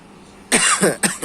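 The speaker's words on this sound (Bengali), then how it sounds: "হালকা হালকা কাশি ঠান্ডার মতো অবস্থা" Two quick, light coughs from someone with a mild cold, close and clear, heard outdoors on a rooftop garden.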